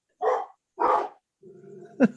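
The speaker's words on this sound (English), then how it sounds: "My dog's going crazy over there." A dog barks twice in loud, close succession, then a quieter whining, growling sound follows and ends in a sharp yip, heard alone without speech.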